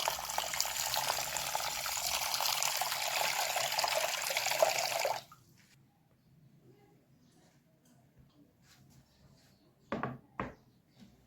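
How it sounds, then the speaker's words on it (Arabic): Running tap water pours over a cup of rice being rinsed for creamy rice pudding, a loud, steady flow for about five seconds, then quiet with a couple of small knocks. "كوباية رز اغسلها كويس."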